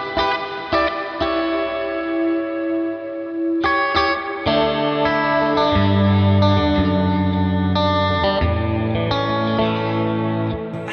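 Clean electric guitar through a Tone King Imperial MKII Neural DSP amp plugin with the reverb decay turned up, chords ringing out into long washy tails across several strummed changes, with no talking.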